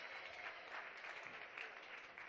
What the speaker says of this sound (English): Give her a big round of applause, please.